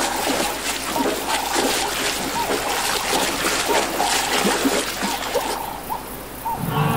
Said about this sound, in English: It splashed into the water, hooves kicking up for viewers.